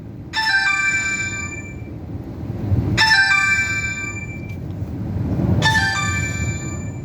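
A phone ringtone chimes three times, bright tonal bursts repeating roughly every two and a half seconds, loud and close over a low background rumble.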